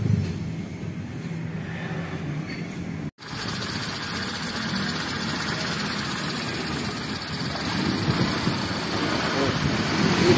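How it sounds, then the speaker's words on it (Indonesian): Honda Life car engine idling steadily with a low, continuous rumble, close by, with a brief cut partway through and no talk. "Itu mesinnya."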